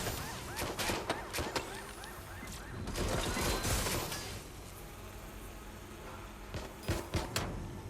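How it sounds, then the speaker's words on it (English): Gunfire in the video game Watch Dogs: Legion: rapid bursts of shots and sharp cracks, with some crashing impacts in between. The firing comes in clusters at the start and end, separated by a steadier stretch of background noise. "Gunfire over here."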